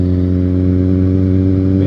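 A Kawasaki Z1000 motorcycle engine idles and revs steadily up close, a loud, continuous mid-pitched engine note with a slight rise at the very end and no talking.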